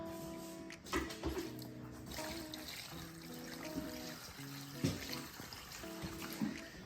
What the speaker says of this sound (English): So I'm just gonna put some water in here.